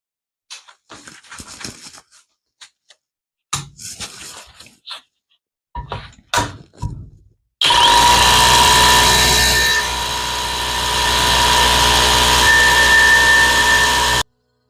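Several short bursts from a cordless rotary hammer in hammer drill mode with pauses between, then a long, loud continuous drilling run lasting several seconds.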